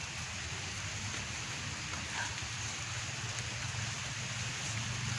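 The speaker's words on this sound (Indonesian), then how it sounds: "Alhamdulillah di sini udah mulai hujan lagi" Steady rain falling over a grave site at the Trembayatan tombs, a continuous soft hiss with low rumble beneath, unbroken for the whole stretch with no voices.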